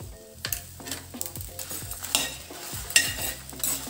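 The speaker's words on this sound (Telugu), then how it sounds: "దోరగా వేయించుకోవాలండి. లో ఫ్లేమ్లోనే పెట్టి వేయించుకోవాలి." Fenugreek seeds dry-roasting in a pan over a low flame, with soft crackle and repeated scraping stirs at a steady rhythm, close and moderately quiet, no voices.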